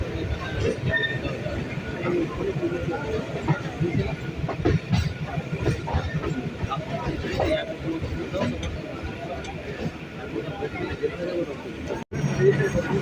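A local train rolls into Sealdah station with a continuous low rumble and rattling cars, crowd babble all around and a brief cutout near the end.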